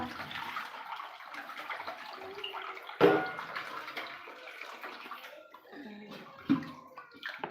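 Dishes being washed under running water, a continuous splashing flow with a louder clatter partway through and a few gurgles, heard close with faint voices in the background.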